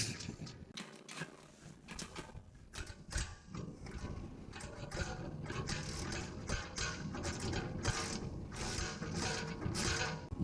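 Ratchet wrench snugging down new bolts on a 1969 Plymouth Road Runner, a run of quick clicking strokes close up, steady and mechanical with no talking.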